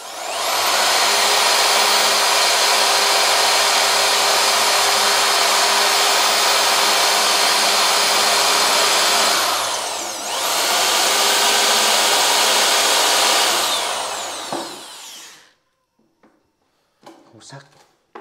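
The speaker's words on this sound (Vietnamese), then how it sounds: "Mũi khoan này cùn quá. Này khoan lâu lắm." A power drill with a dull bit whines loudly and steadily for about fifteen seconds, dipping briefly once midway, then stops, leaving a few faint clicks and handling noises.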